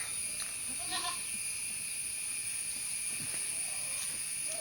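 Young crossbreed goat kids, already eating and drinking on their own, bleat a few times in short faint calls over a steady background hiss.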